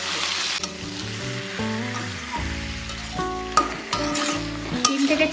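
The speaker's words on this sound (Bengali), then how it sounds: "ভালোভাবে এবার এটা তেলের সাথে নাড়তে থাকবে" Tomatoes and potatoes with salt sizzle in hot oil for a potato curry while a spatula stirs and scrapes the pan in irregular strokes, with steady musical tones playing underneath.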